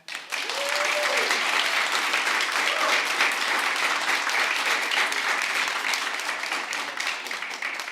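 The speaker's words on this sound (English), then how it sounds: "please give a big round of applause" Audience at a school board meeting applauding a Region 19 Citizen Bee winner from Ysleta High School, a steady, full burst of clapping sustained for several seconds with a brief voice early on.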